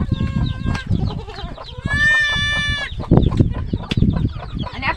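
A village hen with a brood of thirteen chicks clucks and calls in a farmyard, with a sustained loud squawk midway and scattered bird noises throughout at close range.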